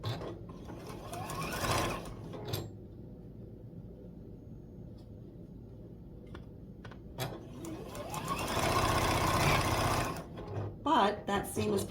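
A sewing machine stitches a quilt block seam in two loud whirring runs at the start and end, with a quieter steady hum between them and a voice talking underneath.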